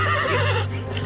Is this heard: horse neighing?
yes